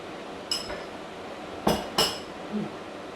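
Cutlery clinks against a plate while fried cabbage with eggs and rice is eaten, three or four sharp separate taps spread over a few seconds, close and clear above a quiet room.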